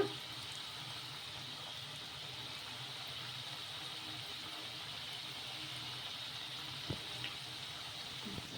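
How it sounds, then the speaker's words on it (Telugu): Small rice balls fry in oil on a high flame, a faint, even bubbling sizzle holding steady throughout with a couple of brief clicks near the end. "రెండు వైపులా బాగా గోల్డెన్ కలర్ వచ్చే వరకు ఫ్రై చేసేసుకోవాలి"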